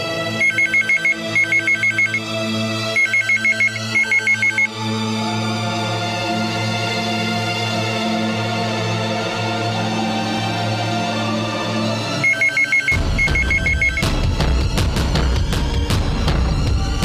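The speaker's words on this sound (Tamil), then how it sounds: "இந்தாங்க, முதல்ல உங்க வீட்டுக்கு ஃபோன் பண்ணுங்க." A telephone rings in repeated loud electronic trill bursts at steady intervals, with a sustained tonal ringback under it, ending in a burst of clattering noise near the end.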